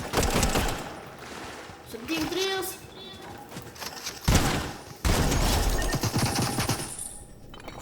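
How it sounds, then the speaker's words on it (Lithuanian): Bursts of rapid Fortnite gunfire crackle loudly, with sharp shots near the middle and a dense volley toward the end, while voices talk over it. "Jo, mus šaudo."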